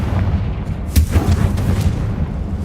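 A Confringo spell explosion in a video game gives a loud, sharp boom amid dense rumbling game noise, followed by a few smaller pops across a short stretch.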